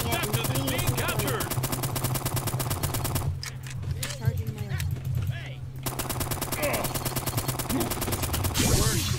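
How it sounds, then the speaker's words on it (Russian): Turret gunfire rattles in the Roblox video game, rapid continuous automatic bursts that dominate throughout, briefly thinning midway before resuming loud and close. "Блин, меня турель снесла."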